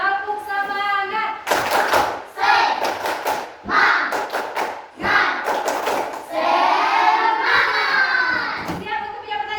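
Schoolchildren in an elementary classroom perform the tepuk semangat chant, bursts of rhythmic group clapping alternating with loud, excited voices chanting together in a lively, repeated pattern.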